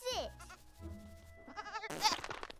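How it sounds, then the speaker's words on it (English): A goat from an animated Despicable Me movie bleats in short wavering cries, with film dialogue and music around it, growing louder toward the end. "the goat from the third movie is still here"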